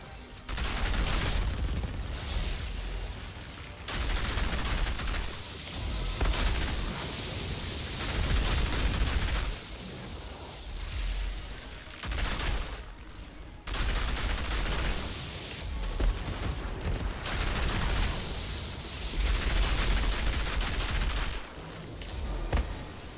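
A player's weapon in a video game fires almost without pause in dense bursts of rapid gunfire. The bursts are loud and harsh and are broken only by short gaps.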